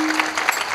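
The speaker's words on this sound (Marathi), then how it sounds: "या सुंदर अशा संस्थांकरता जोरदार टाळी झाली पाहिजे" Audience clapping at a devotional kirtan gathering during a Bhagwat katha and harinam saptah celebration, a dense steady patter of many hands with a few sharper bursts, close and continuous throughout.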